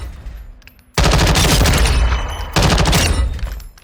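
Fightlite MCR machine gun in Call of Duty Modern Warfare II fired unmounted in two long, loud, close sustained bursts separated by a brief pause.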